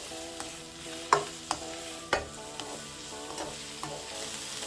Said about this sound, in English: So you just want to fry this for, let's say, 3 minutes